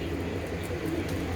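Pigeons of a Punjabi racing loft cooing softly in a continuous low murmur, close by and steady, with no one speaking.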